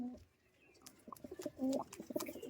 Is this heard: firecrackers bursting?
no